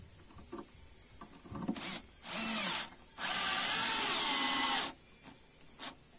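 A weak cordless drill whirs in short bursts, then a longer straining run as a screw is driven into old holes while building a sink countertop, with faint clicks and handling between.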